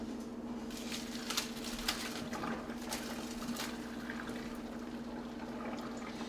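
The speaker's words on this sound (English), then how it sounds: "Remember I said to rinse it with cold water." Cold running water pours and patters steadily over ramen noodles being rinsed in a strainer, a continuous wet splashing with a faint underlying hum.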